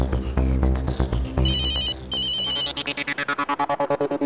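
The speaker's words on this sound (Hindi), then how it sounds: "अरे बाप रे, अंजलि बॉस का फोन" A phone ringtone goes off in a comedic TV scene, starting as a loud melodic tune and then switching to a rapid, evenly pulsing electronic ring, with no one talking.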